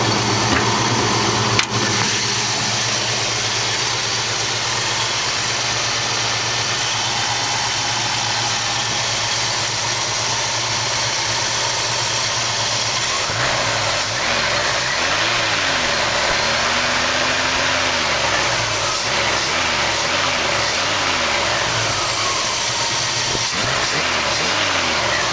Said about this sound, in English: Maybe I should let you listen to the engine real fast.